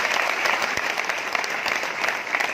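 An audience at a company event claps loudly and steadily in a dense, continuous wash of applause that holds for a few seconds.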